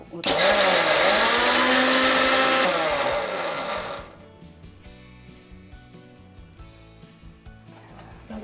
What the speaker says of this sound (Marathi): डाळ मिक्सरमधून फिरून घेऊ.